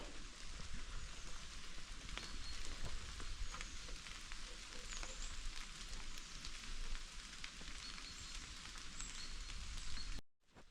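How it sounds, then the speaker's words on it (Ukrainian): Rain falling outdoors by the Stokhid river, a steady dense patter of drops on surfaces, close and even throughout, with no talk, then cutting off at the end. "Починає дощик мочити, зараз буде вода прибувати до стохода."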